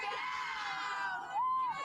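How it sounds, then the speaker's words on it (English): A group of people in Tucson giving a shouted cheer together after a countdown, a loud blended burst of voices with a rising high whoop near the end. "Should we do one more cheer before I go?"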